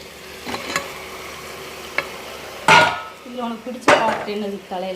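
Washed goat meat tipped into a hot pan, landing with a loud burst of sizzling and frying, followed by metal scraping and stirring against the pan, close up with no voices.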